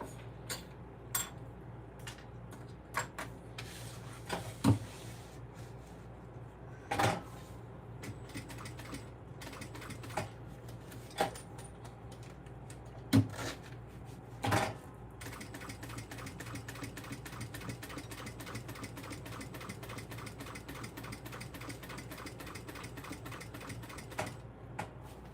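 Sewing machine stitching a tote bag: after scattered clicks and knocks, a rapid, even mechanical ticking of stitches runs steadily in the latter half, fairly quiet and close.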